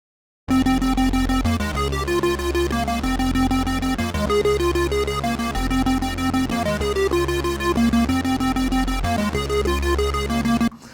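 A Korg KingKORG synthesizer arpeggiator in trigger mode plays fast, evenly pulsed repeating note patterns over sustained tones, loud and continuous, with no talking.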